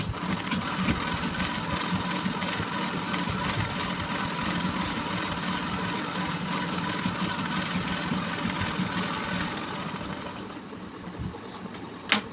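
Sewing machine stitching a frock made from a sari, a steady fast mechanical whirring and rattling that runs continuously, slowing and stopping near the end with a small clack.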